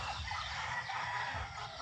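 Chickens and gamefowl on a backyard farm: steady rooster crowing and clucking fill the whole stretch, close and fairly loud over a dense bed of farmyard noise.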